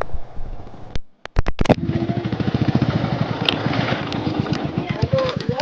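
A Ducati motorcycle engine idles close by with a steady low, pulsing throb after a few sharp knocks, while people talk over it.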